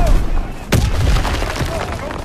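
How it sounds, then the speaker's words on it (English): Gunfire in the World War II video game Call of Duty, set in a death factory level: one sharp, loud shot stands out amid scattered fainter battle noise and rumble, with speech-like sounds mixed in. "Gunfire! We must be near our guys."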